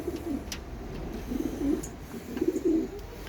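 Pigeons coo on a home balcony in the evening, several soft low rolling coos repeating in uneven bursts at close range, with faint rustling and no talk.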